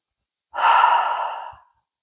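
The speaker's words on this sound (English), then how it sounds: "Inhale through your nose and then give yourself an audible exhale through" A single audible exhale through the mouth during yoga practice on a dock, a breathy, airy rush that swells quickly and tapers off over about a second, heard close and alone with no talk.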